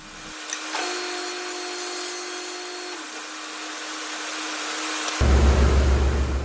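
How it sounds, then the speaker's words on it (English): A table saw with a fence guide cuts wood pieces to width: a steady whining motor hum, a rising tone shift as the blade engages, then a louder burst of cutting noise at the end. "Back to the table saw, here's where I'm cutting them to the perfect width."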